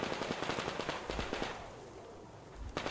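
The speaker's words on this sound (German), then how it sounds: "Das waren doch Schüsse, oder waren das keine Schüsse?" Gunfire in the post-apocalyptic shooter Metro Exodus, a rapid burst of sharp shots followed by a few scattered reports and a louder bang at the end, somewhat distant within ambient game noise.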